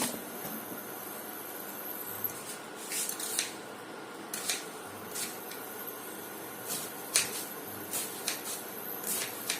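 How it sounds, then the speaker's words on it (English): A knife chops a medium-sized onion on a board, with a few scattered, quiet thunks at uneven intervals over a soft steady background hiss and no talking. "we are now going to chop a medium sized onion"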